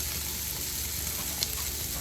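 Vegetables sizzling on a Blackstone griddle alongside a pile of cheesesteak meat, a steady close hiss of frying fat with faint crackles and one small pop, no talking.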